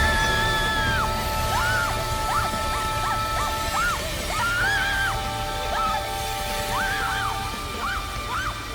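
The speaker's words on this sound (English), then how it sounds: "Hearing those screams genuinely made my stomach churn." Dubbed anime characters scream in distress, a series of high, wavering cries repeating through the whole stretch over a dense background of noise and music.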